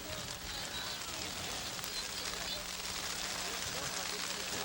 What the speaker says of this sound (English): And the rain is now picking up decidedly.